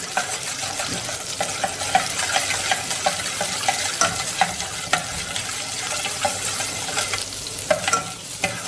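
Rosemary leaves cook in hot olive oil with a steady, close sizzle and crackle, broken by frequent scraping stirs in the pan; no voices.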